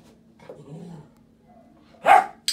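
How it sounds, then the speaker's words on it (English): A female Giant Schnauzer puppy, eleven weeks old, lets out a single loud, sharp bark near the end, after a stretch of quiet indoor murmuring and soft rustle. "Let's see if we can coax a bark out of her"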